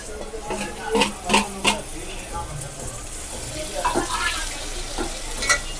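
Tomatoes sautéing in a pan with ginger-garlic paste for hotel-style parotta salna: a steady low frying sizzle with several sharp spoon-against-pan stirring clacks, close by, with no speech.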